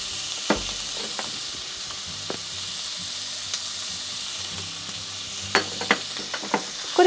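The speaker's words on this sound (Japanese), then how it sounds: "これで引き続き炒めていきます" Meat sizzles steadily as it is stir-fried after a light seasoning of salt and pepper, a continuous hiss with scattered clicks and scrapes of the utensil against the pan, close and moderately loud.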